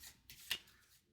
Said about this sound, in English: All right, we shuffle these up.